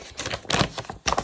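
Scissors slicing open a clothing parcel from Bershka during an unboxing, heard as several close, crisp snipping and tearing bursts in quick irregular succession with brief pauses between them.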